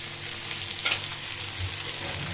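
Capsicum frying in a pan after roasted peanuts, a dense, even sizzle with a short rise in crackle partway through and a low background hum, close and steady.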